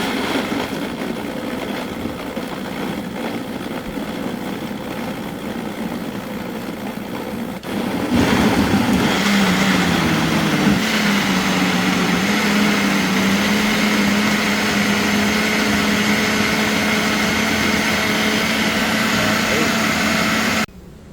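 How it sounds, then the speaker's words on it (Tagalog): A loud, steady motorized whir starts abruptly partway through and runs continuously, a blender churning juice at high speed after a quieter stretch of background noise. "Yan be-blender na natin mga boss."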